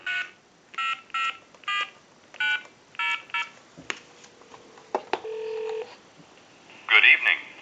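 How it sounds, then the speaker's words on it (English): A quick series of touch-tone beeps on an AT&T 530 Trimline telephone dials a time-and-temperature number, evenly paced, followed by clicks, a faint tone and a short burst of line noise. "And we'll call a time and temp number."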